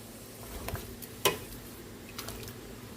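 Sinigang soup with crushed tomatoes boiling hard in a pot, a steady low bubbling hiss with a few soft clicks and one sharper clink near the middle.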